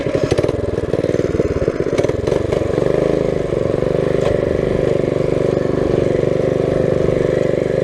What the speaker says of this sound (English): I like how you can kind of rev it too